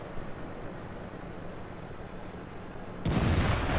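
A Panther tank's main gun fires once in World of Tanks, a sudden loud boom arriving near the end after a few seconds of low engine rumble, then a sustained roar.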